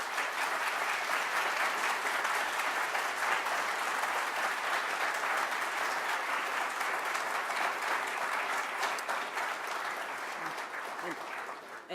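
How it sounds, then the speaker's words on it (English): An audience at a public ceremony gives a long, steady round of applause, dense and even clapping that tapers only slightly toward the end. "Please give them a round of applause."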